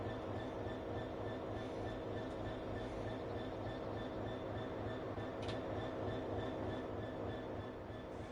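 Class 465 Network SouthEast electric train in Train Sim World 3, a steady rolling rumble with faint wheel hum and high whine, continuous and even, no voices.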